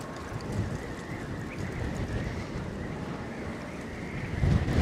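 Gusty wind in Central Park, New York City, buffets the microphone in a steady low roar, swelling louder near the end, with faint whistling above the rumble and no talking.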